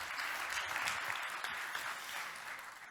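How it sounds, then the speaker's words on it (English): A conference audience applauds as a presenter takes the stage, a dense, even wash of clapping that is fairly faint and distant, fading slightly at the end. "So please welcome Robin with big applause on stage"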